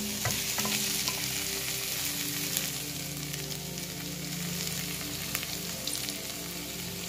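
Sautéed onions with added tomato sizzle steadily in a pan for Kerala-style prawn biriyani, a continuous close frying hiss with occasional light stirring scrapes, no voices.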